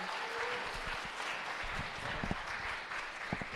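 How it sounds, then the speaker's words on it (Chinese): A church congregation at a youth ministry Sunday service applauds five young people, a dense, steady wash of clapping from many hands that holds for the whole stretch without pause. "我们再一次拍手来谢谢这5位年轻人今天来跟我们的分享"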